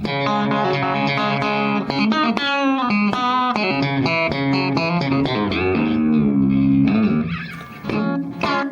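An electric guitar played through a compressor pedal in a busy melodic phrase, notes and bends flowing quickly with evened-out volume and steady sustain, close and loud with no voices.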